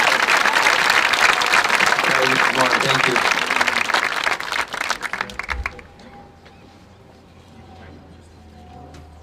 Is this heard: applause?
yes